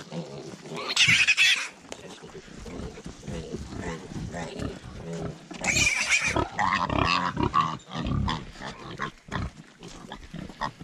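Castrated piglets on a homestead squeal in loud bursts, with two sharp shrill peaks, under steady nearby talk from a person.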